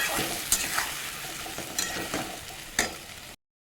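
Ridge gourd curry is stirred in a sizzling pan, three sharp scraping strokes of a spoon over a constant loud frying hiss, close up, with no talking before the sound cuts off.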